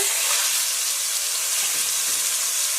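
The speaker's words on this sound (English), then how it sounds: "now that it's been sizzling for about 4 minutes" Beef searing in hot oil in a pan, a steady, loud, bright sizzle with constant crackling and no pauses or voices.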